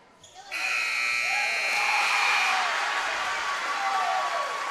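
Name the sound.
basketball game buzzer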